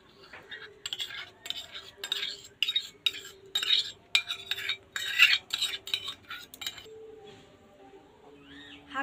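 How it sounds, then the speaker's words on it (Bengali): A spoon stirs yogurt into semolina batter in a bowl, giving rapid clinking, scraping strokes in bursts for several seconds, then settling quieter near the end. "সুজির মধ্যে আমি দইটা আবার মিক্সড করে নেব।"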